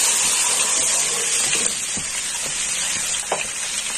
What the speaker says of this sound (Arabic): انا نزلت بالثوم مع البصله، بعد ما اتحمرت البصله شويه بالشكل ده هنزل عليها بالصلصه